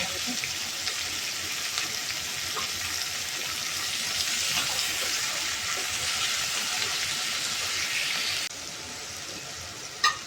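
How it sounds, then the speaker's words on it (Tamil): Tomatoes with salt sauté in a pan for a rice and lentil dish, giving a steady frying hiss that drops off sharply near the end, followed by a brief knock. "தக்காளி நல்லா வதக்கிச்சுங்க."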